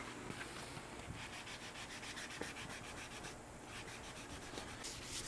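Steady back-and-forth rubbing of 800 grit sandpaper across a custom guitar body, soft rhythmic strokes at close range with no talking.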